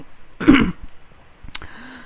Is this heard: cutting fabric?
no